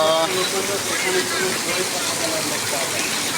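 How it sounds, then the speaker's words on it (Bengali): Heavy rain pours down in a dense, unbroken hiss that stays steady throughout, with faint voices underneath. "অনেক বৃষ্টি হচ্ছে আমাদের এখানে।"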